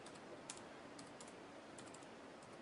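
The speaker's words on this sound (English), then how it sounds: "actually typing this in with a Bluetooth keyboard off screen" Quiet, scattered key clicks from a Bluetooth keyboard being typed on off to the side, light taps in small irregular bursts over a steady background hiss.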